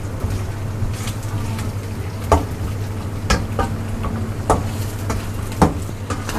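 Chicken and onions frying in a karahi, a continuous close sizzle with scattered sharp pops and occasional utensil scrapes.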